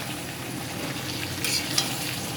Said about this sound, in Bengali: এখন আমি ভেজে রাখা আলুগুলো দিয়ে দেবো, দিয়ে নাড়াচাড়া করবো